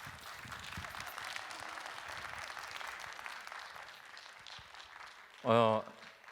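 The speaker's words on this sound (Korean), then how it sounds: "다시 한번 박수 부탁드리겠습니다" Audience applause at a New Year's talk event, a steady broad wash of clapping sustained for about five seconds and fading out, followed by a short burst of a voice.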